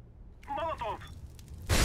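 A Molotov cocktail lands in Counter-Strike: Global Offensive with a loud, close whooshing burst near the end, preceded by a short voice-like call over faint background game noise.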